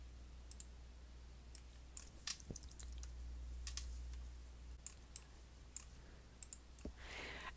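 Sharp, isolated computer mouse clicks while an embroidery design is saved, a dozen or so scattered irregularly across a quiet room with a low steady hum beneath.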